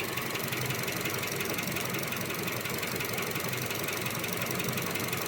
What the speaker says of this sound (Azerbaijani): İndi mühərrik də yaxşı işləyir.